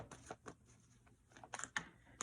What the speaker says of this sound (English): So they go back in, and we're just going to keep shuffling.